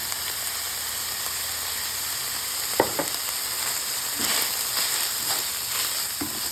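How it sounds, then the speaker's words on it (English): Onions hit a pan of browned ground beef and fry with a continuous close hiss and sizzle, broken by a couple of sharp utensil clacks and stirring scrapes. "the beef is pretty much there, so I'm going to put my onions in."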